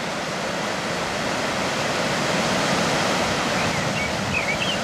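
Floodwater from the river rushes beside a road where a grassy bank is normally, a steady, loud broadband roar with no pauses.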